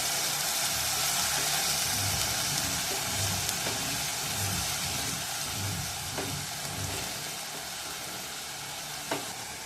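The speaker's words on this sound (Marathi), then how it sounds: "कांद्याची पेस्ट परतून घेऊया आपण आता।" Onion paste sautéing in a pan for chicken biryani: a steady, close frying sizzle with a soft hiss that carries evenly throughout, with a few faint clicks of stirring and no voices.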